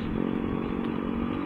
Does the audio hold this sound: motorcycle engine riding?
yes